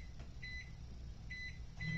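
Microwave oven melting chocolate for Valentine hot cocoa bombs, with a low steady running hum broken by two short pairs of electronic beeps, close and fairly quiet.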